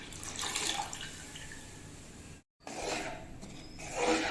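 Three cups of milk pour into a pan of roasted semolina (rava), a steady liquid splashing with one brief break.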